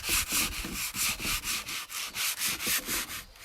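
Sandpaper rubs back and forth across a wooden table in steady, even strokes, about three or four per second, close and loud with no talking.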